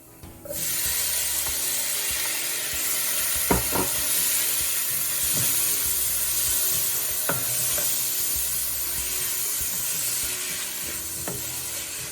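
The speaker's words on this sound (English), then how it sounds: "Now we add in the tomatoes." Tomatoes sizzling in a hot pan for a dhaba-style sev tamatar curry, a continuous loud frying hiss with a few sharp scraping and stirring knocks from a spatula.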